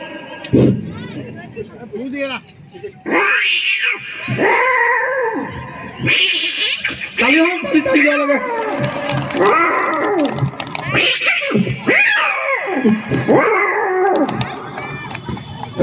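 A person performing stand-up comedy at a fair imitates fighting dogs with a string of loud growls, snarls and yelping howls, the voice rising and falling over about fifteen seconds.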